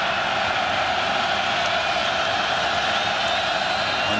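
A loud, dense football stadium crowd roars continuously at a college game between South Florida and Rutgers, a steady wash of cheering noise with no breaks.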